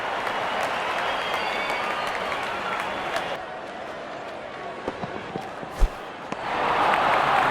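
A cricket crowd applauds a batsman's half century, sustained clapping and cheering that fades after a few seconds, followed by scattered thuds and a renewed swell of crowd noise.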